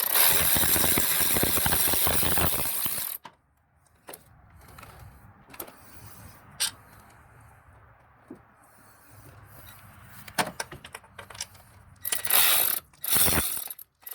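Ratchet loosening a bolt on the water pump of a 2010-2015 Toyota Prius, with bursts of rapid clicking that start loud and close, a quiet stretch with scattered taps and clicks, and then more loud ratcheting toward the end.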